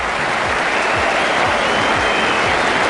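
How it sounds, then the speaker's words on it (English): A big cricket-stadium crowd gives a standing ovation as a batsman's innings ends, with loud, dense applause that roars on unbroken throughout. "A standing ovation from a big crowd."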